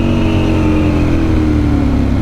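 A motorcycle ridden fast at night with the rider's visor up gives a loud, steady engine drone mixed with rushing wind, holding close and constant throughout with no pauses.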